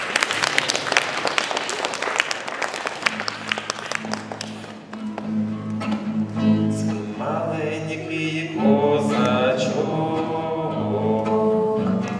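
Audience applause rises in a crowd of clapping, thinning and mixing with music as a melodic tune enters and carries on beneath scattered claps.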